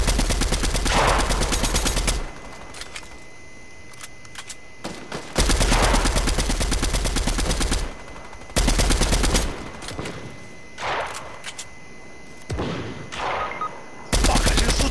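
Rapid bursts of automatic gunfire from a first-person shooter video game, loud and close, coming in several long volleys separated by brief pauses, with players talking intermittently over the shooting.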